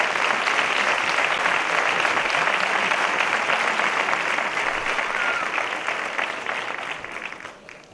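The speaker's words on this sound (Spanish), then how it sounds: "un aplauso para ellas" Sustained applause from an audience at a sports awards gala in Almonte, honouring the women's padel players, steady and dense throughout before tapering off toward the end.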